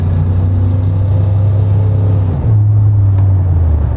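A GMT400 pickup truck engine accelerates on a test drive with a loud, steady low rumble. The pitch shifts partway through as it pulls, and no one speaks.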